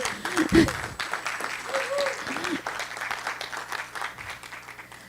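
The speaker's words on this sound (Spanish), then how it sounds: "Adelante, Augusto, por favor, aplausos." Audience applause fills a lecture hall during a talk on forest carbon, steady and moderately loud for several seconds, with voices heard over and under the clapping.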